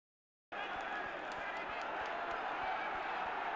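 Dense crowd roar at an Everton v Liverpool football match, a steady broad wash of shouting from the terraces that starts abruptly and holds loud throughout, with faint thuds and scattered sharper calls within it.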